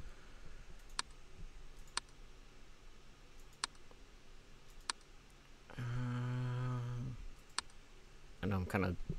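A computer mouse clicks sharply and sparsely, single clicks spaced a second or two apart, during play of the game I'm On Observation Duty 2, with a person talking over part of it.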